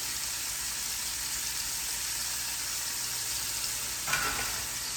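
Steak fries in a hot pan with a loud, steady sizzle that fills the whole stretch, broken near the end by a brief scrape or stir.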